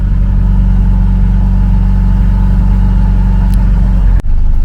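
A car engine runs close and loud with a steady, throbbing drone that climbs as the throttle is pressed, then drops off abruptly near the end.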